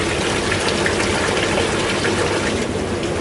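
A hot tub waterfall runs in a steady, loud gush of falling water, continuous and close with an even, unbroken rush.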